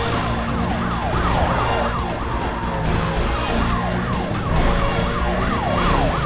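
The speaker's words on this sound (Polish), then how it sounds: "drugi radiowóz już jest" Police car sirens wail continuously in a Need For Speed Most Wanted chase, several overlapping rising-and-falling tones that stay loud and close over steady car engine and road noise, with no talking.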